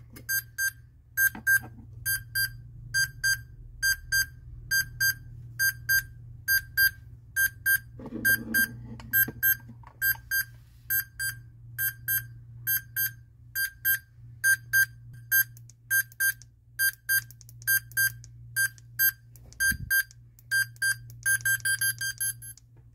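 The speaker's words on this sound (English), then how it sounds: "as you just saw, the alarm is extremely loud" A Radar-5633 handheld Geiger counter radiation detector sounding its alarm: a rapid, evenly spaced train of sharp electronic beeps over a low steady hum, loud and close, continuing throughout.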